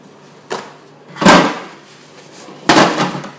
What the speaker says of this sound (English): Never mind the noise, just knocking things over.